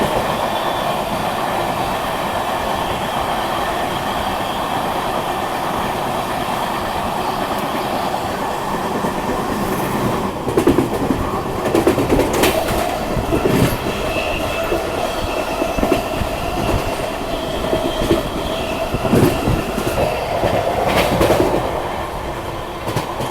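A Rajdhani Express train runs at speed while overtaking another train, with a steady rolling rumble, wheel clatter and occasional screeching bursts throughout.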